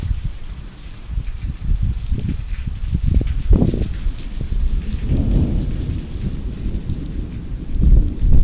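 Thunder rumbles and booms over steady rain during an unseasonal storm in the Gir region of Gujarat, with several loud rolling cracks and a continuous wash of rainfall, no voices.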